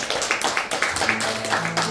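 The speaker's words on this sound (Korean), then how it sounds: "박수" A small audience at a professor's event gives short, scattered applause, a quick run of claps heard under people talking.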